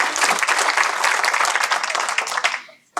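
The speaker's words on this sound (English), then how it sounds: "let's give them a round of applause." An audience at an annual general meeting gives a round of applause, dense and even clapping close by that fades out at the end.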